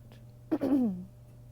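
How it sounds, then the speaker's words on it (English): One short, low throat clear rumbles out, brief and close, over a quiet background hum. "Excuse me for clearing my throat."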